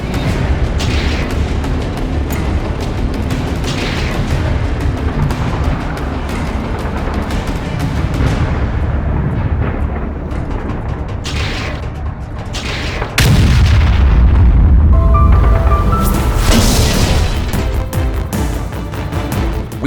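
Continuous rumbling artillery barrage and booming shell explosions from a cartoon tank battle, with Gustav heavy guns firing and bursts layered densely, swelling louder with a heavy blast near the end.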